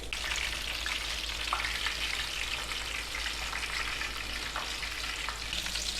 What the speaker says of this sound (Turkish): Mümkün olduğunca az yağ çekmesini istiyoruz. E, o yüzden de bu şekilde kızartıyoruz.